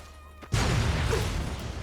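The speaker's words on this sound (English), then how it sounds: "That explosion was actually kind of no joke." An explosion in Fallout New Vegas hits suddenly after a quiet moment, a loud broad blast that rolls on as a sustained rumbling roar.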